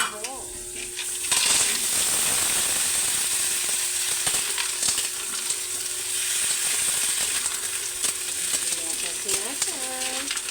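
Mussels go into a hot pan and start cooking with a loud, steady sizzle and frying crackle. Metal utensil scrapes and clinks come through as they are stirred, and a faint voice can be heard at moments.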